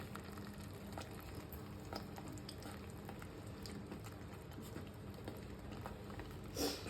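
Eggs drop into sizzling masala in a frying pan for egg thokku, a soft, steady crackle and patter that holds evenly throughout, with a brief louder burst near the end.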